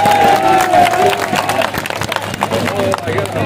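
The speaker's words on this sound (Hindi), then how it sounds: "ताली बजाकर स्वागत करें।" An audience at a Kota–Bundi Lok Sabha election rally bursts into loud clapping and cheering to welcome a guest, the dense applause running throughout while a voice speaks over it.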